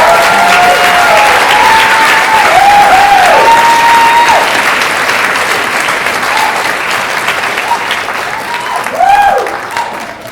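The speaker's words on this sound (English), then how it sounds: "to acknowledge and applaud Ben, Antoinette and Jordan, and all the people who are part of this story" Audience applause at a Climate Action Week speech event, a loud sustained clapping that slowly tapers, with high whistles or voices rising over it.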